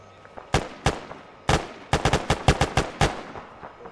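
Video game gunfire in a military shooter: about a dozen sharp, loud shots, a few spaced single cracks and then a quick rapid burst, with bullets flying overhead and no talking.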